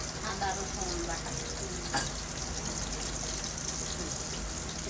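Ginger-garlic paste sizzles and crackles steadily in a hot pan while being stirred, a dense, even frying hiss that stays at the same level throughout.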